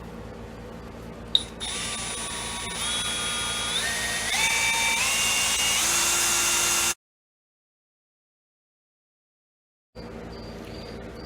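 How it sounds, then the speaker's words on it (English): A high-pitched power drill whines close by after a sharp click, its pitch climbing in steps as it drills out a metal rivet on an AK47 bolt carrier, then cuts off abruptly before a brief faint restart. "now we just gotta drill out the old rivet so we can get the new piston in"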